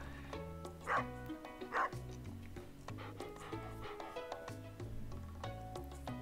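A dog in Stardew Valley gives two short yips over the game's soft, steady background music, then the tune carries on alone.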